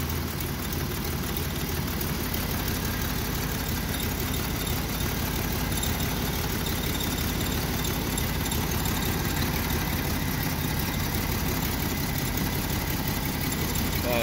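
Steady, close engine idle from a Jeep with an inconsistent idle, a continuous low rumbling drone with even vibration and no speech.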